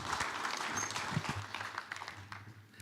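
Audience applause for members of a drone industry panel, a soft, steady patter of many hands clapping that fades slightly over about three seconds, with a low hum underneath.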